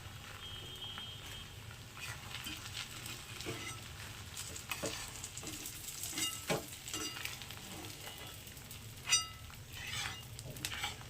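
Steady sizzling of eggs frying in hot oil, with occasional scraping and stirring sounds and a brief sharp clatter near the end.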